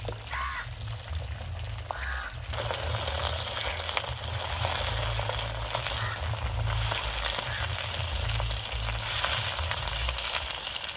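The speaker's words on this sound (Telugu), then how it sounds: "ఇందులో మునగాకు వేసుకొని వేపుకుంటున్నాను" Moringa leaves fry in hot oil with a steady, dense sizzle and crackle that runs without a break, close and fairly loud, with no voices over it.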